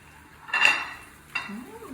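A spoon clinks against a plate twice, each a bright short metallic tap with a ringing tail, fairly close and alone over a quiet room background.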